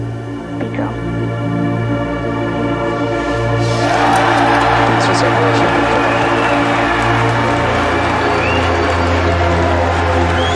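A large crowd breaks into loud, sustained cheering during Falcon Heavy side booster separation, the roar swelling midway and holding over a steady low hum.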